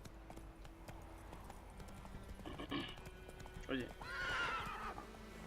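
Horse hooves clip-clop steadily in The Witcher 3, with whinnies and snorts rising near the end over game ambience, while someone speaks briefly.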